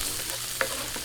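Garlic sautéing in a pan for stuffed milkfish, a steady low sizzle with one brief sharp clink or scrape in the middle, close and moderate in level.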